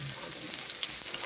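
Garlic, onion and ginger sauté for native chicken tinola cooked over a wood fire, giving a brief, steady, close sizzle with faint stirring and no talk.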